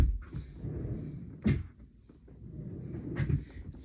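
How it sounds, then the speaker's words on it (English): A drawer in a home is opened and shut while someone searches it, giving a few soft wooden thunks and sliding knocks close by in a quiet room. "checking these drawers right here real quick"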